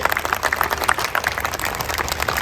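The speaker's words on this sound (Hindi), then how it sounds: "दोनों उम्मीदवार को जोर से ताली बजाइए" Crowd applause at a political campaign gathering in Mumbai: dense, fairly loud clapping from many hands that fills the short stretch without a break and without speech.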